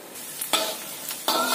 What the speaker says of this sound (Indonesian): Kita goreng kacangnya sampai matang juga.